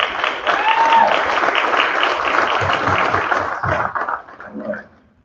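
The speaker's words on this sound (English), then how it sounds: "we ought to give our district a round of applause and our teachers," Applause fills a room at a school board meeting, a steady round of clapping from the attendees that thins out and dies away over the final seconds, with a faint voice in the background.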